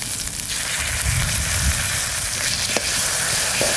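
Crab brain frying in a pan with red paddy-field crabs already fried, a steady loud sizzle running throughout with a few soft stirring clicks.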